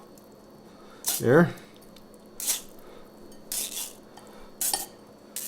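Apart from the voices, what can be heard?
drained ground meat being moved into another bowl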